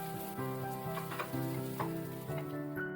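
Green chilies and mashed potatoes frying in hot ghee with cumin seeds, a moderate crackling sizzle with soft stirring pops over steady background music.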